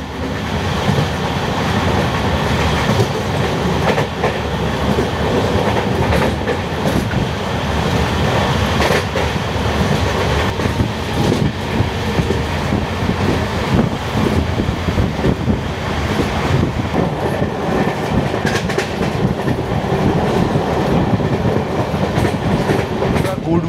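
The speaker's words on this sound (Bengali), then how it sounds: "ওটা হচ্ছে গুডস লোকোমোটিভ।" A WDG4 diesel goods locomotive hauls its train past, a steady loud rumble with rhythmic clickety-clack of wagons and wind buffeting the microphone throughout.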